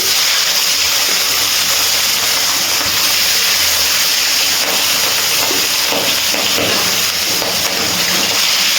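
Pieces of rohu fish sizzle in hot oil, giving a steady, loud hiss that stays even throughout with no talking.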